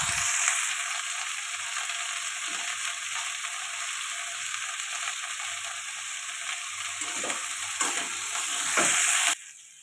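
Bitter gourd, potato and fish roe sauté in a pan for a chorchori, a constant loud sizzle with scraping stirs and clinks of the spatula, ending abruptly.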